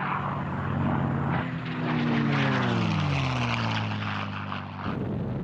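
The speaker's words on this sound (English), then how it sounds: "a US fighter, the P-51 Mustang. The US engine had been replaced by a British-made Rolls-Royce Merlin." A P-51 Mustang fighter with a British Rolls-Royce Merlin engine flies past, its propeller drone steady and loud, with the engine pitch sliding as it passes, and no voices.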